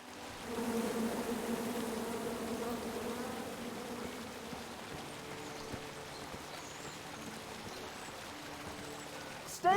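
Bees buzzing in the King's Quest video game, a steady droning hum that swells in and holds for several seconds, fading somewhat toward the end over faint ambient game sound, with no talking.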